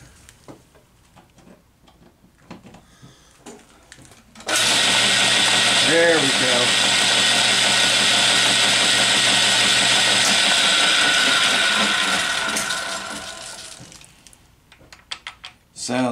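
Atlas lathe running through its gear train, a loud steady mechanical whir with rapid clattering gear ticks after handling noises, lasting about eight seconds before winding down to faint clicks.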